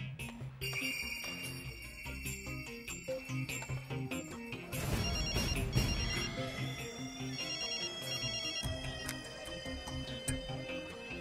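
A mobile phone ringtone plays loudly and continuously, a bright repeating melodic tune with steady beats and chimes, heard alone without talk.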